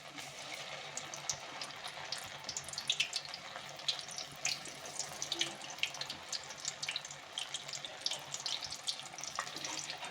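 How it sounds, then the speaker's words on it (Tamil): Soya chunks for soya 65 sizzle in hot oil on a medium flame, a continuous crackling, bubbling hiss with small irregular pops, steady and close throughout, with no speech. "இப்போ நல்லா எண்ணெய் சூடாகிட்டுருக்கு. நம்ம ஒவ்வொன்றா போட ஆரம்பிச்சிடலாம்."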